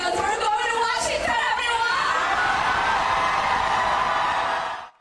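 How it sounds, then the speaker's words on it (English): Supporters of Ilhan Omar at her primary win event at the Safari Restaurant and Event Center in South Minneapolis, a dense crowd cheering, whooping and chattering loudly and continuously before cutting off abruptly. "Supporters came out to the Safari Restaurant and Event Center in South Minneapolis to cheer her on."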